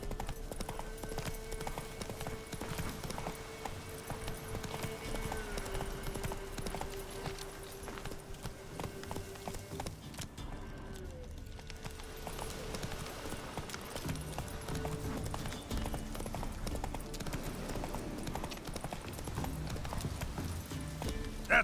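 Rhythmic clip-clop of a trotting horse's hooves in The Witcher 3 video game, steady and continuous throughout, with occasional whinnies and someone talking faintly over it.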